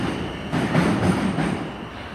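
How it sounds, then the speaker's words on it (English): A train pulls away from a platform at Bournemouth station, its wheels and carriages rumbling and clattering close by with a faint squeal, the sound swelling slightly midway. "1404 service to Weymouth, departing about 6 minutes late."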